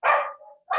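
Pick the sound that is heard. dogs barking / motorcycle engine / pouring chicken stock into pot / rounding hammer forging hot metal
dogs barking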